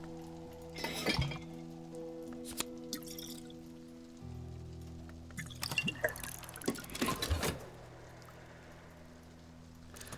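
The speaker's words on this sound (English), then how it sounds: "Okay, so in preparation we will pour out the water for the pitcher." Water poured out of a pitcher in the video game Book of Hours, with glassy clinks, drips and splashes in bursts over a low steady game music drone.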